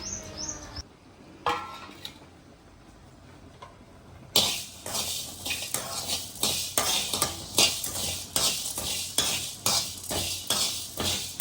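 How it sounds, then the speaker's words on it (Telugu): Coriander, fenugreek and mustard seeds being roasted in a pan with a rhythmic run of close stirring and scraping strokes over a soft sizzle, sparse at first and then steady and loud. "ధనియాలు మెంతులు ఆవాలు ఇప్పుడైతే మసాలాను మనం దోరగా ఎంచుకుందామండి"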